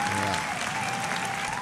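Applause sound effect played on a live stream, a dense, even burst of crowd clapping and cheering, loud and sustained for a moment with a faint tone and some talk underneath.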